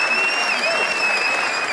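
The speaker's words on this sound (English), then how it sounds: "Can we do a clap for that?" Audience applause breaks out during a live talk show, a steady wash of many hands clapping close and loud for the full stretch, with no voices over it.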